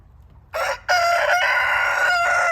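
Free-ranging roosters crow in the rain, with one loud, close, drawn-out cock-a-doodle-doo following a short opening call over steady rain hiss.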